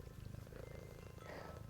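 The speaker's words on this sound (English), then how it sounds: "Oh, Marty, my goodness, you're purring" A male domestic cat purrs close by in a steady, continuous low rumble with no pauses, and no speech is heard over it.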